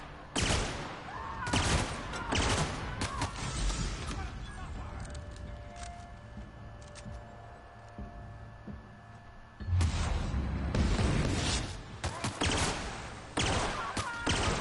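Burst pistol gunfire in the video game Destroyer of Halcyon, loud clustered volleys of rapid shots at the start and again in the second half, with a quieter stretch of game ambience and someone talking between.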